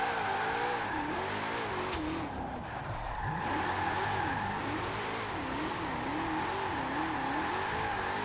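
A 2020 Shelby GT500 in Forza Horizon 4 revs steadily, its engine note rising and falling in repeated wavering sweeps, loud and close, with no voices.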